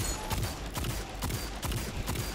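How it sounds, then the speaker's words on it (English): Rapid weapon fire in the video game Destiny 2, momentum aura shots cracking in a repeated rhythm of about five heavy bursts over dense, loud game ambience. "those momentum aura shots are quite powerful"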